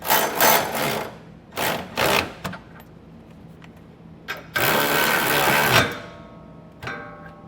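Bursts of a power ratchet or impact tool snug 15/16 bolts on the brackets of a Curt underbed gooseneck hitch: several short loud whirring runs, then one longer sustained run, close up with no talking.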